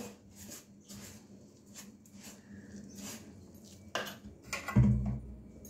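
Palm fruit fritter batter is mixed and kneaded by hand in a bowl, with soft wet squelching and scraping strokes that come in short bursts and end in a couple of sharper knocks against the bowl, close and quiet.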